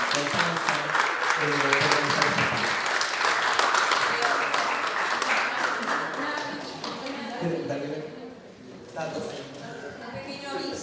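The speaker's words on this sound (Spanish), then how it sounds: "otro aplauso para Montserrat" Steady applause from an audience at a public colloquium on urban segregation fills the room for several seconds, then fades as voices begin talking over the last of the clapping.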